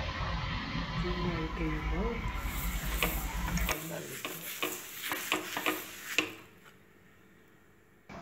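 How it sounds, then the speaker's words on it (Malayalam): Plain wheat dosa made with urad dal cooking on a hot dosa stone, a soft sizzle with light scraping ticks that follows a stretch of talking at the start. "ഇപ്പോൾ ദോശക്കല്ല് അടുപ്പത്ത് വെച്ച് സാദാ ദോശ ചുട്ടെടുക്കുന്നു"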